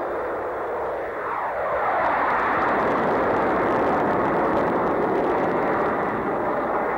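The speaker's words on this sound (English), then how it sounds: "high-altitude Earth Resources survey planes fly picture-taking missions from NASA's Ames Research Center in California" A high-altitude Earth Resources survey airplane flying from NASA's Ames Research Center in California, a steady broad engine roar that holds loud and even throughout with no voices.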